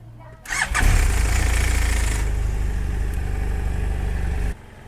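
A motorcycle engine cranks and fires up, revving loudly before settling into a steady close idle, then cutting off abruptly.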